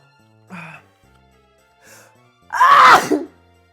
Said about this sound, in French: Attendez, petit éternuement, du coup petite pause.